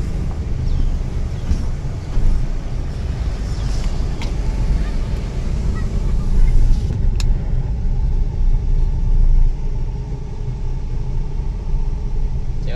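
A car on the Muara Tembesi cross-road in Jambi, near a weekly village market, gives a steady broad engine and tyre rumble with some wind buffeting, swelling slightly midway as it passes, with no clear talk over it.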